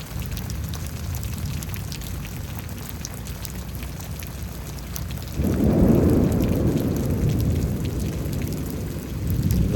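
Steady rain hisses through a May 2024 thunderstorm in Houston, Texas. About halfway through, a deep, swelling thunder rumble rolls in and stays heavy beneath the rain until the end, with no speech.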